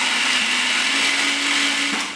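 A food processor whirs steadily at full speed, blending spinach pesto as extra virgin olive oil is poured in, a loud continuous motor drone with a steady hum before it cuts off at the end.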